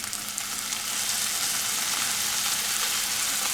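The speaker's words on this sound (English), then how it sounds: "So we are adding 2 tablespoons of dark soya sauce" Chopped onion browning in a hot pan with dark soy sauce just added, giving a loud, steady, dense sizzle that fills the whole stretch without a break.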